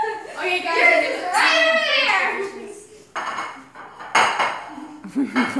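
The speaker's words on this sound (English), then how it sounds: "Playing musical dishes." Dishes and cutlery clatter and clink in quick, loud bursts at a family meal, mixed with children and adults talking over the clanking.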